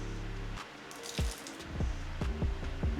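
Liquid poured gently from a cup, a soft, quiet trickle and splash with a few dripping squelches over about three seconds.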